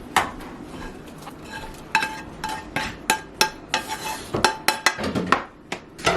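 Meat going into a pan coated with garlic sauce for a homemade lasagna sauce, with repeated clanks and scrapes of a utensil against the pan and a faint sizzle underneath, all close and sharp.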